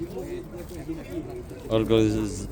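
Pigeons coo softly at an outdoor pigeon market in Jedlińsk, Poland. Someone talks over them, and a louder voice or coo rises near the end.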